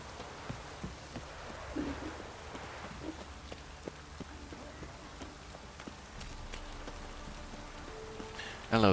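Steady rain falls in The Witcher 3: Wild Hunt, a soft continuous patter with a few horse hoof clops and scattered thuds, ending in a louder burst.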